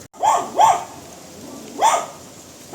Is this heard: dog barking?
yes